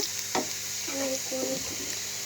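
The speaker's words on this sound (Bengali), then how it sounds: "এবার আমি রসুনগুলোকে সুন্দর করে লাল লাল করে ভেজে নেব" Garlic sizzles and crackles as it fries in hot oil in a pan and is stirred, for a dried-fish balachao, a steady close frying hiss with a few scraping stir sounds.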